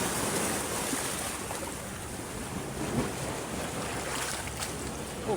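Sea waves wash against a rocky shore in a steady, rushing surge, with wind buffeting the microphone throughout.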